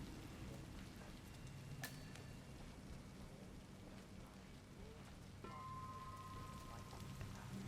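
Steady rain falls in the Hitman 3 video game, a dense continuous patter with a brief bright chime-like tone partway through, holding at an even moderate level throughout.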